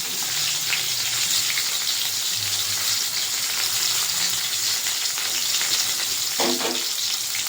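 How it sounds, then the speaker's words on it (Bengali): Slices of bitter gourd sizzle steadily in hot oil, a continuous dense crackle and hiss with occasional stirring scrapes, close and even throughout. "আর একটু ভাজবো, ভেজে তুলে দেবো।"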